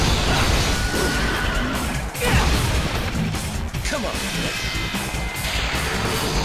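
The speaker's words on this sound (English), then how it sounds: "And that's the horsey." A horse neighs in the Devil May Cry 3 video game, heard through loud, dense game action with crashes and whooshes while a person talks over it.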